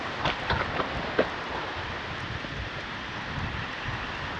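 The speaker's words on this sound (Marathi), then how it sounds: "पाऊस पण जोरात सुरू झाला आहे." Heavy monsoon rain pours around a campsite, a dense continuous hiss at low level with a few sharper patters and knocks near the start.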